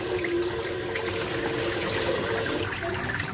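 Kelbon, a legume-based vegan roast ingredient, rinsed under running water in a kitchen, a steady close splashing and gushing flow that continues throughout with no speech.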